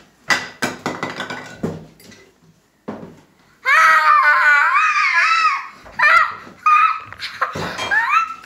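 A child screams and cries loudly in a home kitchen, with long wailing shrieks that rise and break off in bursts, following some clattering knocks and clinks of dishes.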